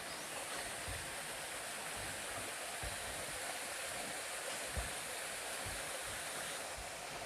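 River water flows steadily across a rural farm crossing, a continuous broad rush with no voices over it.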